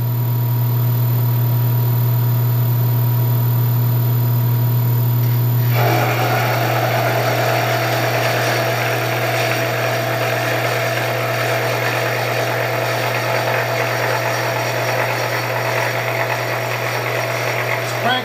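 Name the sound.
Bridgeport milling machine cutting plate to size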